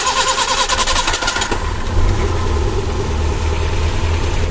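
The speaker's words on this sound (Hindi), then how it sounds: "इसे फुल भरने के बाद अब मैं करूँगा गाड़ी स्टार्ट।" A Maruti Eeco van engine cranks with a rapid starter chatter, then catches and settles into a steady, close, rumbling idle after a coolant refill.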